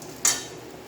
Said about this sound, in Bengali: এবার পটলগুলো দিয়ে ভালো করে নেড়ে চেড়ে